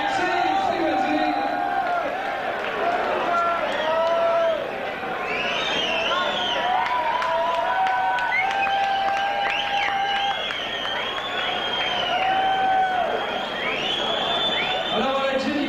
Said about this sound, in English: On les applaudit, ils ont fait un excellent travail, mesdames et messieurs, ce soir.